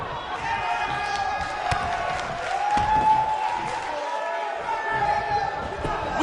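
Arena crowd in the WWE 2K19 wrestling video game gives a steady roar of cheering and chatter, with thumping impacts and a sustained tone from the game audio, while a commentator voice talks over it.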